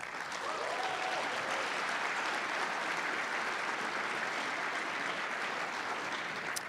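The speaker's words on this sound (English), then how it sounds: "feel free to applaud" Steady audience applause at the Canadian Game Awards as finalists are announced, a dense, even wash of clapping that holds at constant level throughout with no voices over it.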